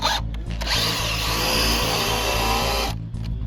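A power drill whirs continuously up close for a few seconds, a high buzzing whine that starts and stops abruptly.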